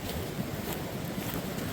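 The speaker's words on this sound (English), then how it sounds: "That wind is high tonight." Strong wind gusting over a trail at night on the Appalachian Trail near Kimberling Creek, a steady, loud broadband roar with no pauses and no voices.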